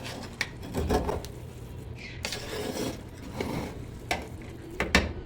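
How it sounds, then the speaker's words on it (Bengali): A spoon stirs biryani in a cooking pot, making intermittent scraping and knocking sounds in short irregular bursts, fairly quiet and close, with faint background murmur. "দেখেন এখন একটু নাড়াচাড়া করে দিই শেষবারের মতো"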